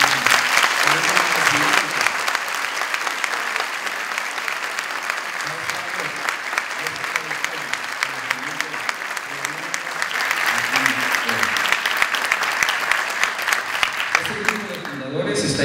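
Sustained applause from the audience at a ceremony honouring the founders of Unitec, many hands clapping steadily throughout, swelling again midway, with voices audible beneath the clapping.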